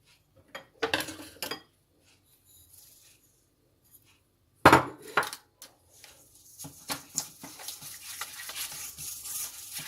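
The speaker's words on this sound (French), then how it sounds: "On mélange les œufs avec le sucre." Eggs and sugar are mixed in a bowl with a utensil, heard as scattered clinks and scrapes. Sparse strokes at first, then a sharp knock and a steadier run of quick stirring taps, fairly close and quiet.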